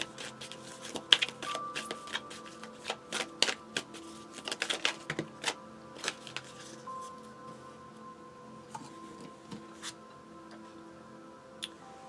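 Cards from an angel oracle deck being shuffled, a run of crisp riffling flicks and taps that come in irregular bursts over a steady hum, fading to sparse clicks toward the end.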